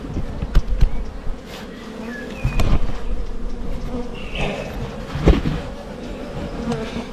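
Honey bees buzzing continuously up close while a beehive is opened and inspected during an artificial swarm split, a dense steady hum broken by a few bumps and knocks of handling.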